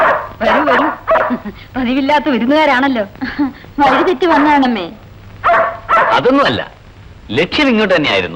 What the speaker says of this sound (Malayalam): നായി വല്ലാതെ കുരയ്ക്കുന്നു.